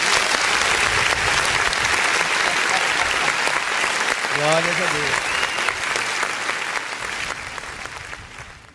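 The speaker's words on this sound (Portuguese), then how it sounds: "Vamos aplaudir o nome de Jesus." A church congregation applauds steadily through a worship service, a dense wash of clapping that slowly fades toward the end while someone speaks briefly over it.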